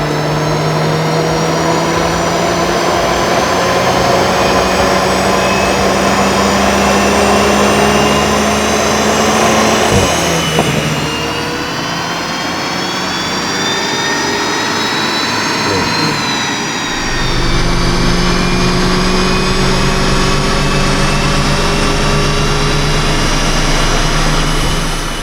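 A 2-litre TSI engine in a VW Golf GTI runs loud and continuous on a dyno, its whine climbing in pitch and then briefly dropping off before building again.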